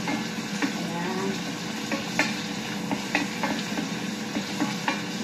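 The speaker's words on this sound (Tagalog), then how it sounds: "Lagay na po natin ang ating sibuyas." Sliced onions sizzle in hot oil in a pan while a spatula stirs them, steady frying hiss with periodic scraping strokes, close and moderately loud, no talking.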